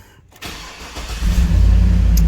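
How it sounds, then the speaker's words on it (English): A Cadillac Escalade engine cranks and catches after a brief quiet start, settling into a loud, steady close-up idle. "we're gonna go ahead and start the vehicle"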